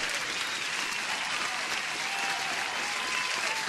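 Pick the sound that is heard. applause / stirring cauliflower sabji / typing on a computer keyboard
applause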